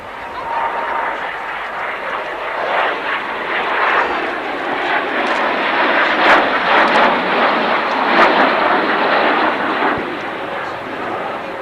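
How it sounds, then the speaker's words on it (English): An English Electric Canberra jet aircraft flies past at an air display, making a loud, sustained roar with a rising and falling rush as it turns overhead. "There the Canberra illustrating its manoeuvrability,"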